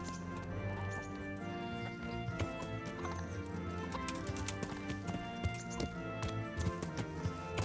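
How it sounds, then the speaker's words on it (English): A horse trots in the medieval Kingdom Come: Deliverance video game, its rhythmic hoofbeats clip-clopping over steady background music and ambient game sound, moderately close with no speech. "Horse."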